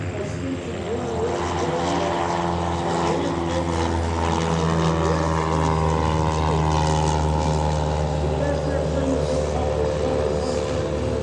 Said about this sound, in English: take off roll right now, the 172RG